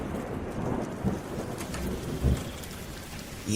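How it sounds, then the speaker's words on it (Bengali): Heavy rain pours steadily in an animated story scene, with low rumbles of thunder rolling through at intervals; no one speaks. "আবার যে বৃষ্টি নেমে এলো"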